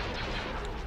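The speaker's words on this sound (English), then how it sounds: "There's some laser fire into those X-Wings." Star Wars laser fire blasting into X-Wing fighters: a dense, continuous burst of rough, crackling shots lasting about a second, loud and close.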